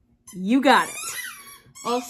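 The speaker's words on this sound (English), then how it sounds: "So if you hear random squeaking in the background" A dog's squeaky toy ball lets out sharp rubbery squeaks close by, mixed in with a person talking over it.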